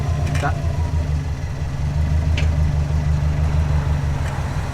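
A crash-damaged Subaru Impreza WRX engine runs with a low, steady rumble while the car moves, heard up close with a voice speaking over it.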